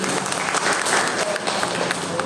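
An audience of parents claps during a talk on school admissions: dense, loud, continuous applause that fills the whole stretch, with some crowd murmur and voices mixed in.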